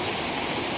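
A waterfall rushes at night in Konkan, a continuous broadband roar of falling water that stays loud and even throughout, heard up close with no voices.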